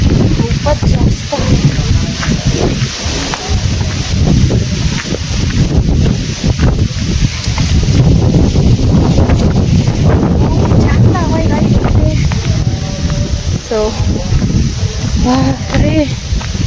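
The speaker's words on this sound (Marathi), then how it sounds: "भयंकर हवा आहे." Strong wind blasts into the microphone nonstop, a loud, rough buffeting roar that covers everything, with someone talking faintly underneath at times.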